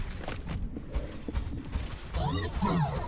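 Goat mounts run in a video game scrim, their hooves giving a rapid clip-clop with creaky mechanical game sounds, all under busy team chatter throughout.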